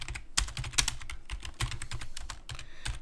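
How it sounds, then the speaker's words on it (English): Someone types on a computer keyboard in a Linux terminal text editor, with quick, irregular key clicks and a few heavier keystrokes, close and alone. "start typing text in there."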